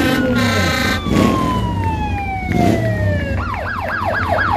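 Fire engine siren from Fire engine number one in a small-town Christmas parade in Patterson, California, wailing in long descending sweeps and then switching to a rapid yelp, loud and close over street noise.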